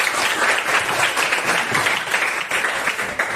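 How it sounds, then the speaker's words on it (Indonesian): Classmates giving a round of applause, a loud, steady burst of many hands clapping together close by with no talk over it. "Tepuk tangan buat teman-teman."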